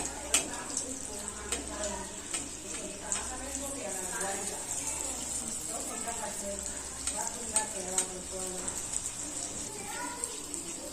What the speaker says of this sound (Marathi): तर तेलात सोडल्यानंतर थोडं 2 मिनिटांनी मग त्याच्यावर आपण असं तेल टाकायचं म्हणजे तो छान फुलून येतो.